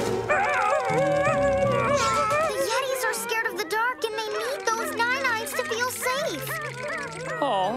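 Cartoon yetis let out unhappy, wavering howls and whimpering yips, several voices overlapping loudly and continuously over a busy animated soundtrack.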